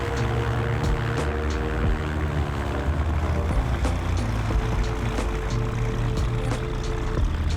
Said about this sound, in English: Using both engines for taxi thrust